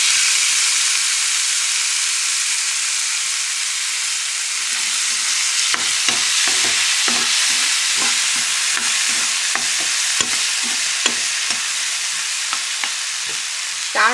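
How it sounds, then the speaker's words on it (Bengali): Potatoes frying in hot oil give a steady, bright sizzle throughout. About midway, a burst of stirring clatter and crackle begins and comes in uneven, close spurts. "তো এবার আলুগুলো তুলে দিই, তেল গরম হয়ে গেছে"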